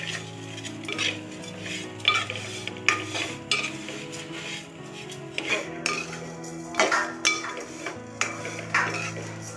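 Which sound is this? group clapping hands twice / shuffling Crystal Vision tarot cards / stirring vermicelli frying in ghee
stirring vermicelli frying in ghee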